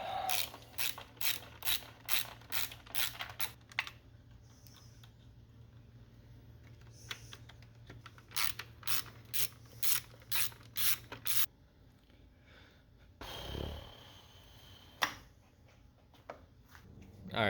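A ratchet wrench loosens nuts on the carburetor mounting posts of an old Honda outboard motor, with fast rhythmic clicking in short bursts, close up, then a pause, a clunk and faint handling noise.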